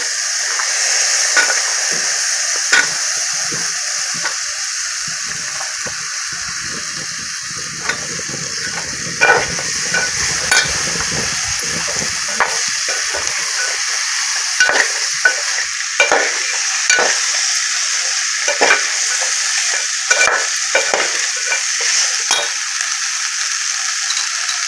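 Jackfruit seeds frying in a pan with steady sizzling, broken by repeated scraping and clinking of a spoon stirring them, close and continuous.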